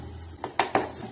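Onion and garlic go into a pan of melted butter, a few quick metallic clinks of utensil against pan, three short knocks in under a second, close and fairly soft.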